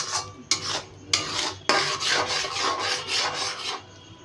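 Spice paste for chicken rezala being stirred and sautéed in a pan, a steady scraping and sizzling rasp with several sharp utensil strokes that give way to continuous rubbing, close and clear with no talking.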